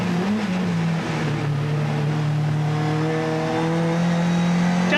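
1988 British Touring Car Championship saloon racers lapping a circuit, a loud sustained engine drone holding a steady pitch with slight wavering as the cars run flat out, a faint commentary voice beneath.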